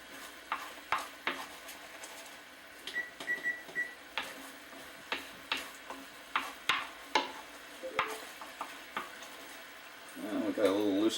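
A utensil stirring and scraping a bacon mixture in a pot, with irregular close scrapes and knocks over a soft sizzle, ending in a brief louder rustle.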